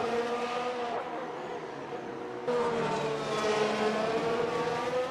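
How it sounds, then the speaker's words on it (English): Race cars in an F1 video game at the 2018 Azerbaijan Grand Prix on the Baku City Circuit, engines whining and droning through the pit lane with a rising pitch sweep midway, alone without talk. "Here Foxy overtakes Ed on pit lane"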